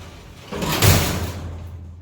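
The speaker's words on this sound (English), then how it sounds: "And I got the inner door shut." The inner door of a vintage Eastern hydraulic freight elevator slides shut in one loud, close sliding thud that fades out.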